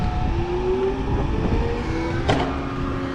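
The engine of a concrete pump truck revs up close by, a loud rising roar with a sharp, brief surge of noise partway through before it settles into a steady high drone.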